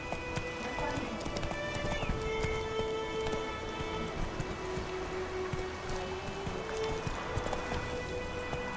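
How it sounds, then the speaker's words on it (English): A horse gallops in the video game The Witcher 3, with continuous rhythmic hoofbeats over a steady ambient bed, close and moderately loud. "घोड़ा आया नहीं, पीछे से आ रहा है।"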